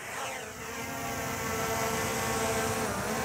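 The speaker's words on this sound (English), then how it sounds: "Now, you can also get the drone to take off by holding up on the joystick" The propellers of a DJI Mini 4 Pro drone hum in flight, a steady high-pitched buzzing whine that rises slightly and holds, loud and close with no voices.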